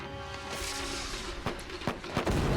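A dense, roaring wash of noise with several sharp booming hits toward the end, like cartoon explosions going off one after another, from an episode of Avatar: The Last Airbender.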